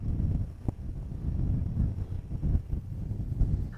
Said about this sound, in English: Well guys, it's really windy today,